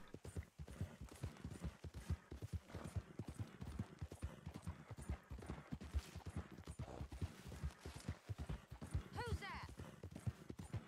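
Horse hooves clip-clop in a steady, brisk rhythm while riding in the Red Dead Redemption 2 video game, close and continuous, with a brief whinny near the end and a voice talking over parts of it.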